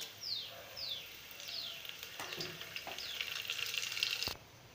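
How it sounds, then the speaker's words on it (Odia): Cumin, black pepper and cardamom crackle in hot refined oil, a soft, steady sizzle with light spattering pops and a few faint clinks, fairly quiet and without voices. "ତେଲ ତାତିଗଲାଣି, ଆମେ ଏବେ କ'ଣ କରିବା ନା, ଜିରା ଆଉ ଯେଉଁ ରଖିଥିଲେ ଆମେ ଗୋଲମରିଚ ଅଳେଇଚ ହରିକା ଏରା ସବୁ ଦେଇଦେବା"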